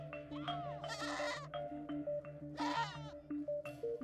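Goats bleat twice in loud, wavering cries over a steady low background hum, with softer calls in between, in a livestock setting tied to food aid for farming families.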